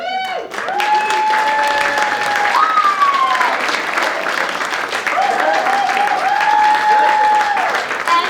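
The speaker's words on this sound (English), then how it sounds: "One more round of applause, please." A theatre audience applauds loudly and continuously, a dense close wash of clapping with some cheering and voices rising through it.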